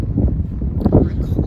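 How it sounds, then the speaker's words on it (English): Strong wind gusting at the beach buffets the microphone with a low, steady rumble for a brief moment, with faint voices partly mixed in. "Oh, it's windy. It's nice."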